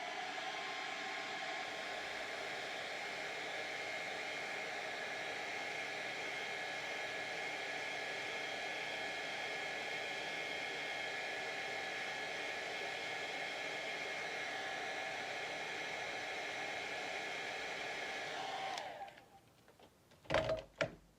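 Hair dryer blowing steadily for about eighteen seconds to dry an alcohol ink craft project, a constant close whooshing roar, then switching off followed by a few faint knocks.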